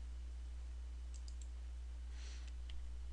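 A computer mouse clicks a few times while working in Civil 3D drafting software: faint, brief, close clicks scattered over a quiet background hum.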